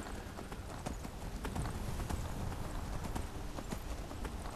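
Horse hooves in the video game Skyrim, a steady close clip-clop of a galloping mount running continuously throughout, with faint game ambience behind it.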